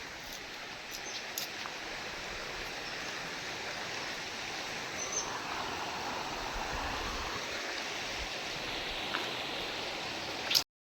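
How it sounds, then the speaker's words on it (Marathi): A small stream runs low after scant rain in the Konkan countryside, giving a soft, steady, continuous trickle and rush close by, with no talking. "पाऊस कमी आहे त्यामुळे व्हाळाला पण पाणी कमी आहे"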